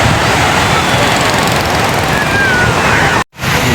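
Waves wash steadily onto a seashore at sunset, a loud, continuous broadband roar of surf mixed with wind buffeting the microphone, with no speech and a brief sudden dropout just before the end.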